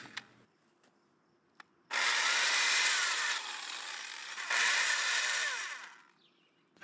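Drill-driven auger boring planting holes in moist garden soil, heard as two long, loud grinding runs of several seconds each, close by, with brief taps and knocks before the first run and quiet after.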